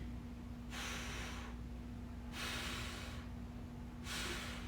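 Three long, breathy exhalations during a stick mobility exercise, each a hissing rush of air separated by quiet gaps, heard close and alone.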